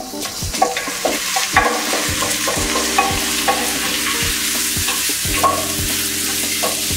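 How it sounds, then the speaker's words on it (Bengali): Rice is dry-fried with soaked mung and masoor lentils in a pot for achari khichuri. A soft sizzle runs underneath, and a spoon scrapes and stirs loudly and close up in repeated, uneven strokes. "চালটাকে ভেজে দিব।"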